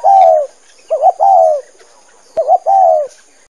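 Pigeon cooing in three clear phrases, each a short throaty stutter that swells into a longer rolling coo, spaced about a second apart and heard close and alone.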